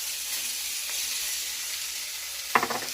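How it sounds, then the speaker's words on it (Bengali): Green peas poured into hot oil seasoned with asafoetida, a steady bright hiss of frying that jumps with a sudden splash and crackle as the peas hit the pan near the end, no talk. "এইবার আমি এখানে মটরশুঁটিটা ঢেলে দিচ্ছি"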